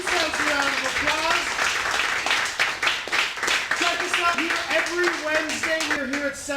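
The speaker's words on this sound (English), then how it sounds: "let's give our whole team a round of applause" Audience claps for the team at a live comedy night in a bar basement, a steady wash of hands with voices talking loudly over it.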